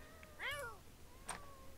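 A cat in The Sims 4 gives a short, rising-and-falling meow, followed a moment later by a brief second squeak, both fairly quiet and alone over a soft background.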